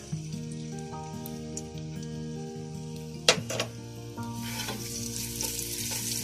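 Crushed garlic fries in a small amount of oil with a steady close sizzle and a sharp crackle partway through, under faint background music.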